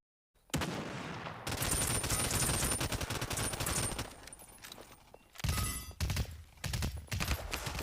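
Shotgun fire in the video game Realm Royale comes as dense bursts of rapid, sharp blasts, loud and close, with a short pause partway through before more clustered shots.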